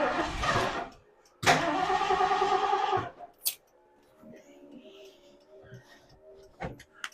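A Ford Club Wagon van's engine cranks in two long bursts of about a second each, close and fairly loud, then stops; a few faint clicks and small knocks follow in the quiet.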